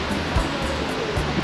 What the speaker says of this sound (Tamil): அந்த வாட்டர்ஃபால் தண்ணியோட சத்தம்